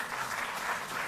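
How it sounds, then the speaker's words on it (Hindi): Crowd applause welcoming guests at a ceremony honoring Olympic athletes, a brief, even roar of many hands clapping with no talk. "आप लोग जोरदार तालियों से"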